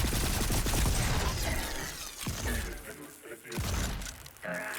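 Buckshot gunfire in the game Volcanoids aboard a busy ship, a few sharp, loud blasts with shattering crackle and ringing decay, separated by brief quieter gaps.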